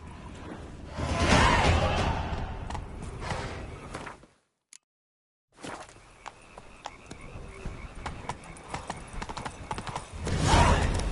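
Roach, the horse in The Witcher 3: Wild Hunt, gallops with rapid rhythmic hoofbeats; the sound cuts to silence for about a second, resumes more faintly with soft thuds, then swells again as the gallop draws close.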